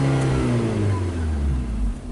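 A 2012 Nissan Versa with electronic throttle faults revs in park, a close, loud engine drone with steadily sliding pitch that eases off at the end, no talking over it.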